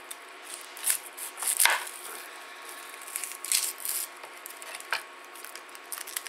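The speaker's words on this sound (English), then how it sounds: "I've got to cut up an onion," A knife cutting up an onion for a Mexican shepherd's pie, with soft, irregular chopping and scraping strokes that stay fairly quiet and close, alone with no talk.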